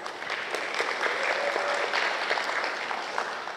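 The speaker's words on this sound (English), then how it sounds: "Give yourself a round of applause." Steady crowd applause from a school audience at a junior honor society induction and awards ceremony, a dense, continuous clapping that fills the hall without letting up.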